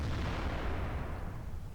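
Tank cannon fire in World of Tanks, tier 10 heavies such as the Maus and IS-7: a dense, distant-sounding rumbling blast that stays broad and steady, faint overall, with no voices.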